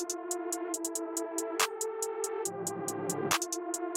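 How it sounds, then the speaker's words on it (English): A beat blending two genres carries a reversed lead and reversed chords over a ticking hi-hat and a sharp clap, with a low swelling layer entering near the end; moderately quiet, purely instrumental, no talking. "we've got this reversed lead once again with the reversed chords"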